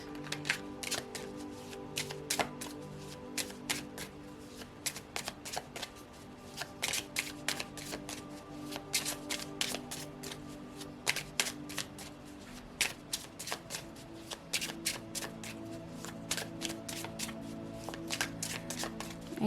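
Oracle cards are shuffled during an angel card reading, with soft riffling bursts and taps that repeat irregularly throughout and no speech.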